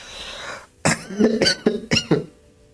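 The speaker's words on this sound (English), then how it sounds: "I need to cough" A person coughs several times in quick bursts, close and loud, after a short stretch of near silence.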